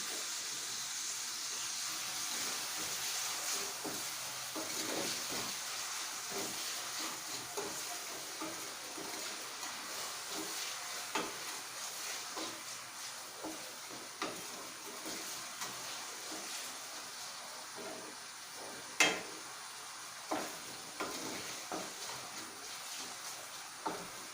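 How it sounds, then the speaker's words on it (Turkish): Fresh okra sautés with salt in olive oil in a pan, giving a soft, continuous sizzling hiss with scattered small pops and crackles that grow slightly more frequent toward the end. "Biraz sotelensin."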